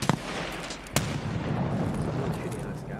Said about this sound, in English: I heard another shot there.